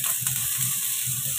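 Garlic sizzles steadily as it sautés in hot cooking oil in a pan, a continuous bright hiss with faint scraping and stirring clatter underneath, no voices.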